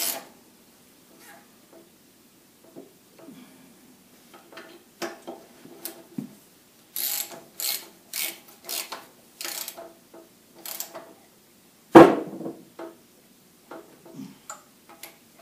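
Fasteners being cranked down on a Troy-Bilt Horse tiller give a run of close, sharp ratcheting clicks and metallic ticks in short bursts, with one louder clank near the end.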